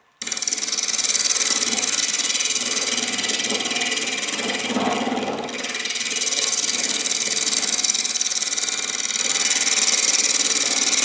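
Wood lathe spinning a bowl blank while a Hurricane carbide tool cuts, a steady broadband whir and hiss that runs almost the whole time, with a brief dip midway.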